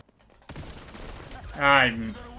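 Sniper rifle fire in the video game XDefiant: a sharp crack with a lingering noisy tail, followed by a brief voiced exclamation over the game sound.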